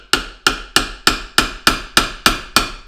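Nine sharp, evenly spaced brass hammer strikes ring out close by, drifting a steel sight on a 1911 pistol, each a crisp metallic tap with a short decay.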